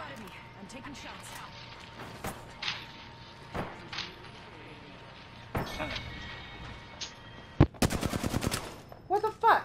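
Gunfire in the video game Apex Legends, scattered single shots and short bursts followed by a rapid machine-gun volley near the end, heard under a player's excited talk.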